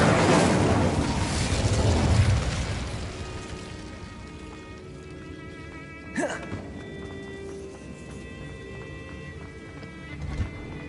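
Incendio fire spell cast in Hogwarts Legacy: a loud whooshing, roaring burst of flame that swells and fades over a few seconds, followed by a sharp crackling pop and a smaller burst later, with no talk.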